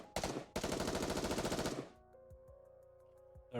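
A rapid, continuous hail of gunfire strikes a rapture's core in the video game Nikke: Goddess of Victory, a loud roaring burst that cuts off sharply and gives way to faint ringing electronic tones.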